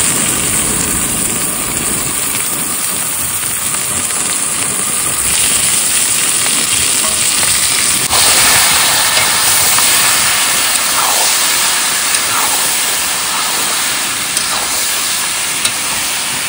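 Meat dropped into a hot fried paste of green chilli, ginger and garlic, giving a loud, steady broadband sizzle and hiss with a brief sharp burst partway through, no voices.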